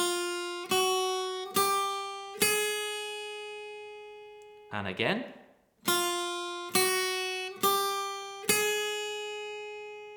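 An acoustic guitar plays single plucked notes of a chromatic scale pattern, evenly spaced and ringing close, with a brief spoken phrase in the middle before the notes resume.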